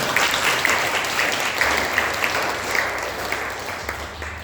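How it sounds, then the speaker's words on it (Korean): A church congregation claps together in warm, sustained applause, many hands blending into a steady patter that fills the room at moderate volume. "우리 한번 축복의 박수 한번 보여드리겠습니다"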